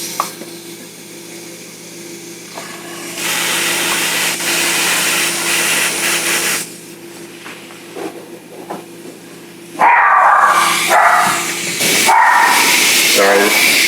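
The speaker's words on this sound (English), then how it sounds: "In the afternoon with the kids' friends coming by, the dogs go crazy." Several household dogs bark and yip excitedly in bursts at close range, a loud agitated chorus that stops and starts again, with voices and a steady mechanical hum underneath.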